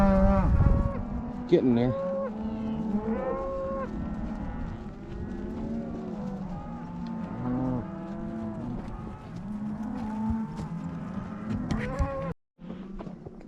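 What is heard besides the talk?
cattle mooing, cow followed by bulls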